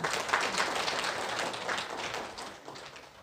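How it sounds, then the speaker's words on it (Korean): An audience at a council meeting and launch ceremony claps for its newly introduced officers, a soft, continuous patter of many hands at some distance that gradually thins toward the end. "임원 여러분께 격려와 감사의 뜻을 담아 큰 박수 부탁드리겠습니다"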